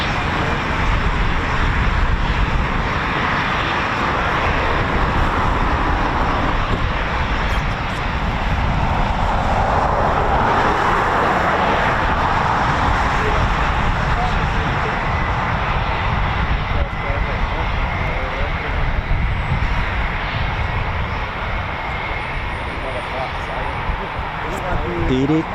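Several aircraft arrive one after another at RAF Coningsby, a fighter station, their engines a continuous loud roar that swells in the middle, with voices talking over it.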